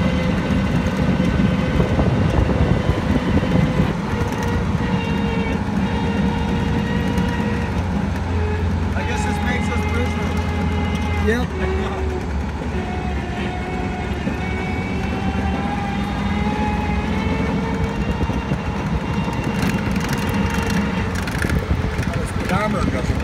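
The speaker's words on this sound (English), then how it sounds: "1943 real Kubelwagon." A 1943 Volkswagen Kübelwagen drives along with a steady engine drone and road rumble, loud and continuous, while people talk over it.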